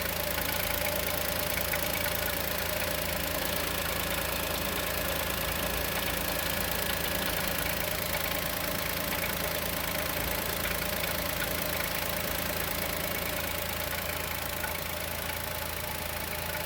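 A new naturally aspirated Chevrolet Onix engine idles steadily with a faint, regular knocking tick in its running note, heard close up and alone for the whole stretch.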